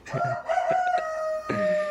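A Sultan rooster crows close by among black Sultan chickens, a loud, drawn-out call in two sweeping phrases.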